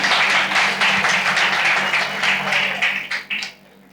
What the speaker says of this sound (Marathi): तुमच्यासाठी एकदा टाळ्या होऊन जाऊ दे